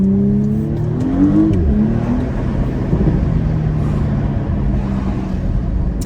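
A 2020 Porsche Panamera 4 E-Hybrid with a 2.9-litre V6 accelerates, its engine note rising in pitch through gear changes, loud and close, then settling into a steady drone.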